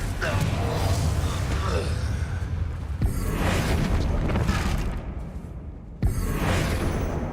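Confringo spell explosions in the Hogwarts Legacy video game burst with loud booms and whooshing blasts, a sharp hit near three seconds and another near six, over a dense rumbling battle din.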